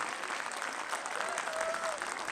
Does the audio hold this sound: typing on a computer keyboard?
no